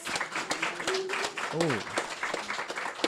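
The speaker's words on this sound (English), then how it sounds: "Please give her a round of applause." An audience at an evening magazine-release event applauds, a dense patter of clapping running under a speaker's voice.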